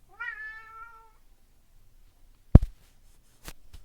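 A pet cat named Boomy gives a single clear, rising-then-falling meow close by, followed by quiet and a couple of sharp knocks or taps.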